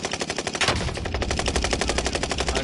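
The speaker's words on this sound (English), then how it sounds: "I got sniped right in the face, Mars." Rapid automatic gunfire in a video game match on the Caldera map, loud and continuous with a steady fast rhythm, one sharper shot standing out early, no talking.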